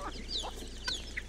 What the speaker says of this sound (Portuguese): Aí mostrando aqui as galinhas, né?